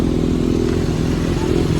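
A superbike's engine runs with a steady, low, throbbing rumble at a motorcycle gathering on a Sunday ride, close and continuous throughout.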